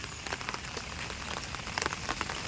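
First monsoon rain falls over a village, a dense, even patter of drops on surfaces with scattered louder hits and no voices.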